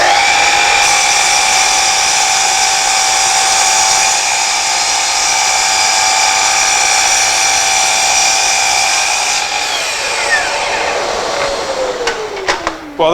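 A Festool Kapex KS 120 mitre saw slices through a wide 280 mm board of sapele, a loud, steady high-pitched motor whine and cutting hiss for about ten seconds, then the blade winds down with falling pitch.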